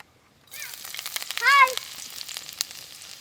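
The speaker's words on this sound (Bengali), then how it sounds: "তেলের মধ্যে দিয়ে দেব আদা রসুন কুচি" Chopped ginger and garlic go into oil left over from frying chicken for chilli chicken, giving a sudden sizzle that swells briefly then settles into a steady crackle, close by.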